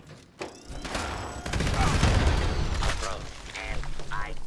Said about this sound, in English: There's already gunshots though.